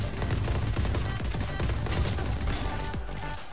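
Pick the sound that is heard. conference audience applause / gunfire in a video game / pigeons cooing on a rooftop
gunfire in a video game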